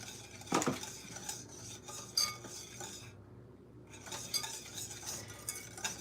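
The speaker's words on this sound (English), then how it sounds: "We're gonna give this a quick whisk just to get that pudding dissolved in that milk" Whisk clinking and scraping through milk and pudding mix in a bowl for a quick stir, with sharp utensil clinks near the start and steady stirring noise throughout at moderate loudness.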